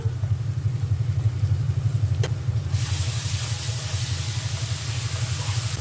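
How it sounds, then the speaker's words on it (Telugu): Ginger garlic paste lands in a hot pan and breaks into a bright, steady sizzle partway through, following a low, rumbling hum, with no one speaking. "ఇలా అల్లం వెల్లిపాయ పేస్ట్ కొంచెం పచ్చి వాతావరణం పోయే వరకు వేయించుదాం"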